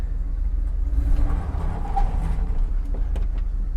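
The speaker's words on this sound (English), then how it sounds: "that scraping was, you know, the spare wheel. It's dragging on the floor" A stripped 1989 Bentley Turbo R rolls forward with its loose spare wheel dragging and scraping along the floor, a steady rough grinding under low rumbling noise throughout.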